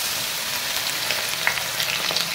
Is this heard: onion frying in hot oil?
yes